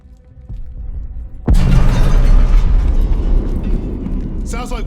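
A grenade goes off in Call of Duty Vanguard with a sudden loud, close blast, shattering debris and a long rumbling tail, after a tense quiet lead-in; shouting voices come in near the end.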